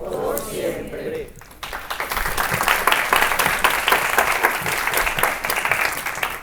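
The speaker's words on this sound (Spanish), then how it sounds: "Un fuerte aplauso entonces para Jesús." After a brief spoken moment, a forum audience breaks into loud, sustained applause, a dense, steady wash of clapping that builds and holds until the end.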